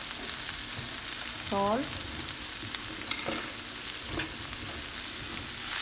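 Onion and vegetables frying in a pan, with steady soft sizzling and a few brief stirring scrapes, close and moderately quiet with no talking over it.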